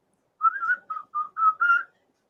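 Someone whistles a short phrase of a tune, several clear melodic notes in quick succession, close and alone against silence.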